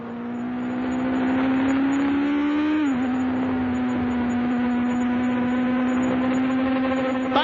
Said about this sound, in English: And here's Carlos Reutemann diving his Ferrari inside Mario's Lotus.